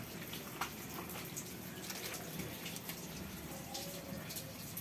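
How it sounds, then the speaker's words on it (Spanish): Tap water runs faintly and steadily while a freshly cleaned, gutted fish is rinsed, a soft continuous splashing with brief clatters and no talk. "Luego le ponemos un poco de agua, lo enjuagamos."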